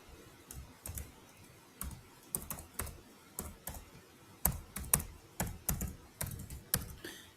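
A username is typed on a computer keyboard as crisp, close key clicks in irregular bursts and short runs, with brief pauses between, quiet and alone.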